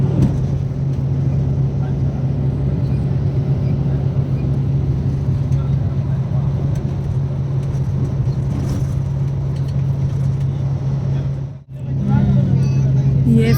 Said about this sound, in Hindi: मैं अभी गाड़ी के अंदर और गाड़ी अब चलने लगी।